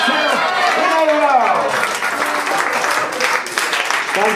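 An audience applauds after a cup and ball magic trick, a loud, dense wash of clapping throughout, with voices and cheers mixed in.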